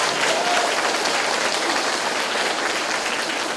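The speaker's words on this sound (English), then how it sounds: "let's give a big thunderous round of applause for your music teacher," Children in a school audience give a thunderous round of applause for their music teacher, Mr. Olmos, with dense, even clapping that holds steady throughout and no talking over it.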